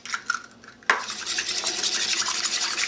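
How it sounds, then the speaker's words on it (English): A whisk beats eggs for a quiche filling in a bowl, starting with a few light clinks, then a sharp knock followed by continuous rapid metallic scraping and rattling, close and steady. "beat with a whisk"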